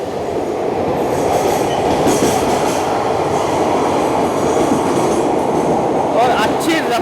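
Rajya Rani Express train running fast through Dadar station, heard from inside a 3 AC coach on the way to Mumbai: a loud, continuous rushing rumble with wheel noise and a brief screech near the end.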